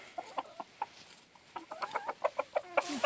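A rooster clucks rhythmically to call his hens to food in an evening backyard flock, a rapid series of short close clucks that grow louder and more frequent toward the end.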